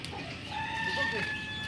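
Chickens cluck and a rooster crows nearby, drawn-out calls over a steady outdoor background.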